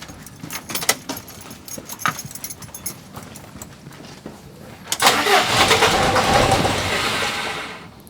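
A truck converted into a tiny home cranks and starts after an air suspension swap, with a few clinks and rattles first, then the engine catching loudly near the five-second mark and settling into a close, steady idle with no talk.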